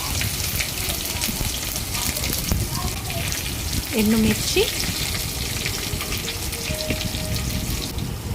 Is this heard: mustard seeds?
yes